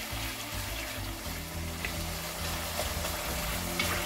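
Pork sizzling steadily in a hot pan as it sears, a soft, even frying hiss with faint crackles, no one speaking, for a traditional Transylvanian pig feast.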